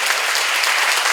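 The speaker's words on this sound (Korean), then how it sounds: "박수하세요." A church congregation claps together during a sermon seminar, a dense, steady wash of hands filling the whole moment at close range, with no voices rising above it.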